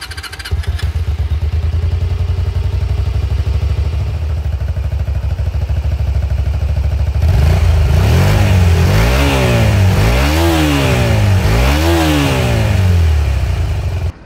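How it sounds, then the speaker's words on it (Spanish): A Honda VTR250 Interceptor motorcycle engine idles with a steady rumble, then revs up and down repeatedly while riding, loud and close, with rising and falling pitch sweeps. "ahora pasemos a lo más emocionante, que es mostrarles el manejo de esta, mi nueva moto, la Honda VTR 250 Interceptor"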